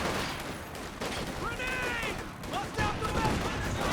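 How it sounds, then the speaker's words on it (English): Battle sounds from the strategy game Company of Heroes 2, with rapid machine gun fire and scattered shots in a dense, continuous mix and a voice speaking over it. "we've got double machine guns now from Noisekick as well."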